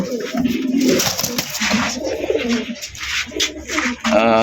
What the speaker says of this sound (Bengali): মাশাআল্লাহ এখানে আরো এক জোড়া কবুতর আছে